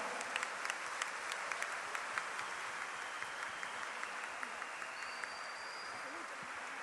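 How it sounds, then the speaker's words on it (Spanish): A crowd at a provincial teachers' pedagogical congress applauds strongly after a talk, a steady wash of many hands clapping heard from a distance, with a few sharper claps standing out. "muy fuerte el aplauso, realmente"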